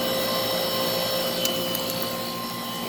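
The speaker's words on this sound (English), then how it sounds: "Just listen to that Copeland reciprocating compressor roar." A 2002 2.5-ton Carrier Tech2000 heat pump runs in cool mode, its Copeland reciprocating compressor giving a steady, close, humming roar with a constant tonal drone and no pauses.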